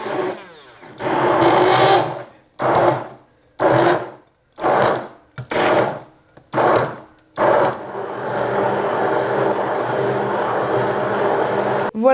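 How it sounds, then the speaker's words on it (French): A loud blender whirs in repeated short pulses, then runs continuously for several seconds, close and harsh, blending peas and water. "Voilà, j'ai mixé pendant moins d'1 minute"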